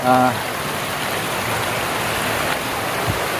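Flood water flowing along the edge of a homemade flood-control channel beside an eggplant garden, a steady broadband rushing wash with a brief voice at the start.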